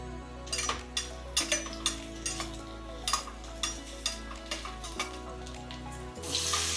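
Sliced mushrooms sautéing in hot oil in a pan for a mixed vegetable dish, with a steady close sizzle and regular scraping stirs of a spatula, no talking.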